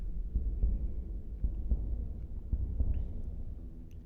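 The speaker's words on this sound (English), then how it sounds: "we're bringing in a sound of a heartbeat" Slow, steady heartbeat thumps in a fanmade Genshin Impact music track, low and muffled, pulsing roughly every second against a dark low hum with no other instruments.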